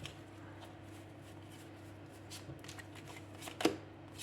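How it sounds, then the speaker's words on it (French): A tarot card is drawn from a deck and laid out, giving soft close papery shuffling and sliding with a sharper snap near the end. "Je voudrais juste rajouter une carte là-haut."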